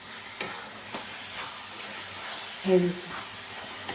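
Food is stirred in a frying pan, with faint sizzling and scattered taps and scrapes of a utensil against the pan, and a voice murmuring briefly partway through.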